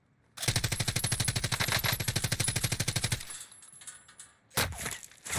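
A PKM machine gun fires a long, rapid automatic burst in Call of Duty Warzone, loud and close for about three seconds, then fainter game noise and another short sharp shot near the end.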